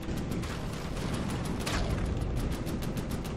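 Cannon fire during a battle in the naval and land combat game From the Depths, a dense, sustained roar of rapid blasts that blur into a steady rumbling barrage, loud and without speech.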